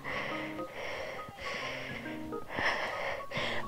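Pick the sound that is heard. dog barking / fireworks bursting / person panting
person panting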